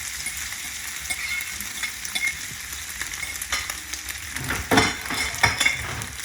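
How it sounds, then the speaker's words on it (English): Crab meat frying with browned shallots in a pan on a gas stove, a steady sizzle with stirring scrapes and a few louder clatters of utensil against pan toward the end. "So I'm now going to throw in my crab meat."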